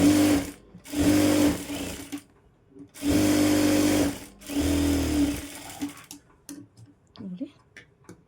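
A sewing machine stitches a blouse back in four rapid bursts of whirring, each about a second long with pauses between, followed by faint handling clicks.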